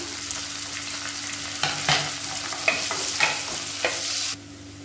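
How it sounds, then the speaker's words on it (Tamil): Chopped onion frying in oil for a spicy tamarind curry, a steady close sizzle punctuated by several scraping stirs of a spoon, then abruptly quieter at the end. "ஒரு கைப்பிடி பொடியாக நறுக்கின வெங்காயம் சேர்த்துக்கலாம்."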